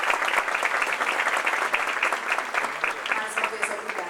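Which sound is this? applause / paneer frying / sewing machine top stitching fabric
applause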